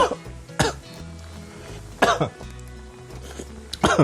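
Three sharp coughs spaced a second or two apart, fairly close, with a quieter stretch of faint sound between them, from tasting vinegar-sharp sweet and sour sauce.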